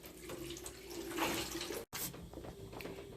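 Water pours steadily into a blender holding chopped potatoes, a close splashing rush that is briefly interrupted before resuming.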